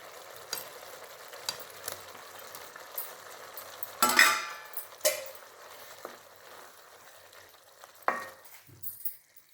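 Fried paneer pieces tumble into a sizzling matar paneer gravy with cooked green peas, bringing a steady close sizzle and a few sharp clatters of stirring against the pan, with no talking.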